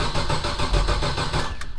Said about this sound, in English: We can get it to crank over again,